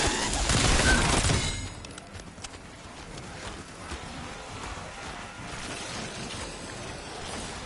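An LC10 rifle fires in Black Ops 6 Zombies: a loud burst of rapid gunfire opens, then gives way to quieter scattered shots and in-game rumble.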